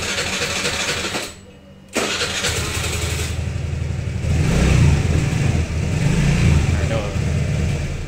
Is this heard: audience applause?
no